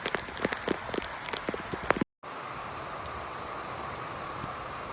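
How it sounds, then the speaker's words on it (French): Steady heavy rain hissing across the whole range during a hike in the Hautes Fagnes, Belgium, with scattered sharp drops and rustles at first, then a brief dropout followed by an even, dense downpour. "il pleut à fond là"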